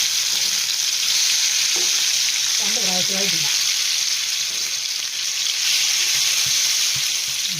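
Potato pieces dropped into hot coconut oil for a Kerala stir fry, crackling and sizzling loudly and continuously with a brief stir partway through and a short spoken remark over the frying.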